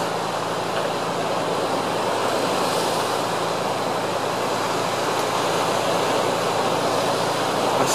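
Ocean surf rolls onto Chirihama beach along the Nagisa Driveway, a constant broad wash of breaking waves with wind noise buffeting the microphone, loud and unbroken throughout.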